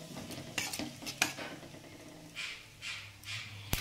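Bay leaf, dried chilli halves and whole cumin sizzling in hot oil, a soft frying hiss swelling in bursts, with several sharp clinks of a spoon stirring against the pan.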